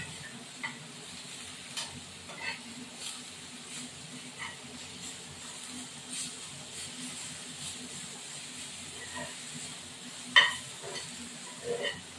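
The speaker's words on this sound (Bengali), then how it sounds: "এবার আমার এটা আলুটা ভাজা হয়ে যাবে, নামিয়ে দেবো।" Potatoes fry quietly in a pan, a faint low sizzle with occasional soft stirring taps and one sharper clink near the end.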